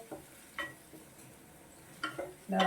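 Onions and tomatoes sautéing in a pan for potato masala: a quiet, low sizzle broken by a few spoon stirs and clinks against the pan, close and faint.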